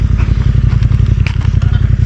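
A motorcycle being walked and eased down a slope, its engine idling in a loud, close, throbbing chug with light clatter and scraping over the rough ground.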